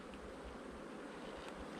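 Honey bees buzz steadily around an open hive where they are feeding young, forming a dense, continuous hum with no speech.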